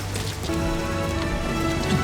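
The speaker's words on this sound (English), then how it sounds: "Did she do anything now that it's actually raining?" Steady rain falls in Metal Gear Solid V: The Phantom Pain, a continuous even hiss of drops on surfaces that holds level for the whole stretch with no talking.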